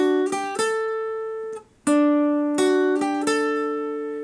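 An electric guitar plays a short melodic fill, clear plucked notes with slides between them and a brief pause midway, played solo without voices.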